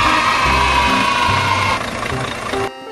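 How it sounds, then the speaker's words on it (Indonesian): Heavy machinery engine of a bucket crusher for breaking stone and concrete running with a low rumbling drone and shifting tones, loud and close, cutting off abruptly at the end. "Bucket crusher."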